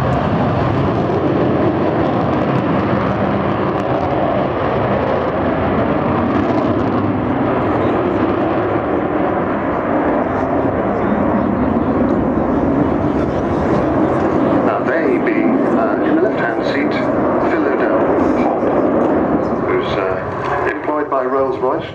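A loud, continuous roar of Avro Vulcan bomber jet engines at an air show rumbling steadily throughout, with a rising hiss and whine toward the end, close and overpowering.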